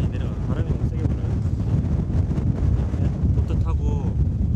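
Strong wind roars in Antarctica on King George Island, a heavy steady buffeting rush close to the microphone with gusty swells throughout.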